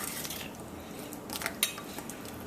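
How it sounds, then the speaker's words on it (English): A spoon clinks and scrapes around a bowl of soy sauce marinade, soft irregular taps with one sharper knock, close and quiet. "We're just going to give that a good stir, and then we're going to season up the beef with it."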